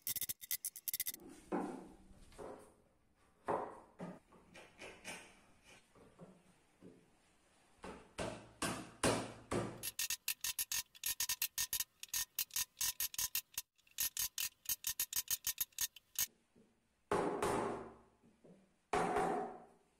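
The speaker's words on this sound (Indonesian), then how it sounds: "Lalu potong dan pahat seperti pada langkah sebelumnya." Hand-cutting and chiseling wood for a dovetail joint on a small stool, with bursts of rapid sawing strokes and sharp tool scrapes and knocks separated by short pauses, close and moderately loud.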